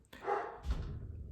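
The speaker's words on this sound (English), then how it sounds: "sorry about my dogs" A single dog bark rings out close by indoors, a short sharp burst followed by a fading echo.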